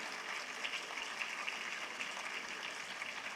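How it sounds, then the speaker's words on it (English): Applause from a conference audience, honoring the panelists at an international gathering of chief justices, comes across as a steady, distant wash of clapping for the whole stretch, soft and without voices. "Let us thank our panelists, dear students, by giving them a warm round of applause."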